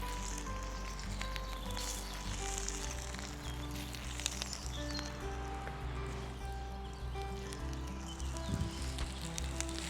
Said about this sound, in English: We're just going to place our fritters into the pan.